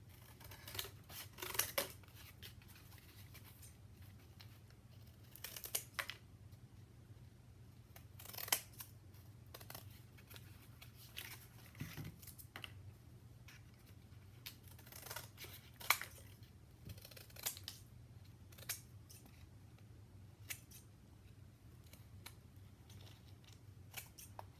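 Scissors snip through paper in short, crisp cuts, spaced unevenly with pauses between, close and fairly quiet over a low background hum.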